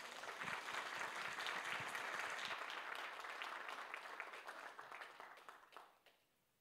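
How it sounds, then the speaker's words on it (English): An audience at a university public lecture applauds a university choir with a sustained round of clapping. The sound is moderately full and close for about five seconds, then thins and fades out near the end. "Let's welcome them with a round of applause."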